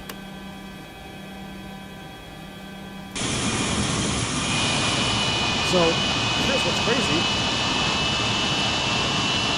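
A DC-9 jet engine starts in a flight simulator game: a steady spool whine abruptly gives way to a loud, sustained roar with a high tone, while someone talks over it.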